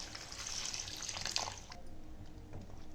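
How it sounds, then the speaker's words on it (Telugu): Water is poured into a pot of chicken curry, making a steady, quiet splashing stream for about three seconds with no one speaking. "ఇందులో తగినన్ని నీళ్లు పోసుకోవాలి"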